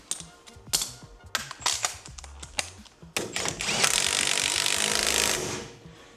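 A bearing knocker driving a wheel hub onto a back axle in a garage: a string of sharp metallic knocks at uneven intervals, followed by a sustained louder grinding, scraping stretch that tails off at the end.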